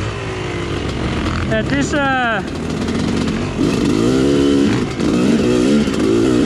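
A motorcycle engine with an exhaust leak revs and rumbles loudly at close range, with a rising whine partway through. Someone talks over it for much of the time.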